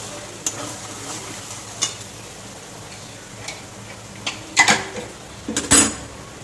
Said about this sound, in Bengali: এবার আমি রাজমাগুলো দিয়ে দেব।